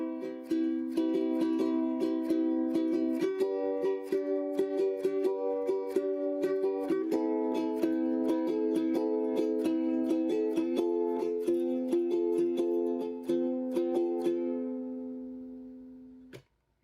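Ukulele chords strummed in a repeating strum pattern, each pattern played twice before the chord changes, close and steady for about fourteen seconds before the strings ring out and fade, ending with a brief knock.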